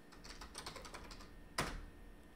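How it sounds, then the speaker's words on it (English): A short burst of soft computer keyboard keystrokes while a package-listing command is entered in Python, followed by a single sharper press like the Enter key, quiet and close with no talking. "type pip list"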